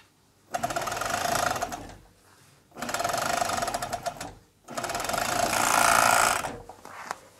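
An overlocker (serger) runs in three bursts while stitching a vest (undershirt) seam, each a loud, fast, steady mechanical whir of about one to two seconds, with short quiet pauses between them.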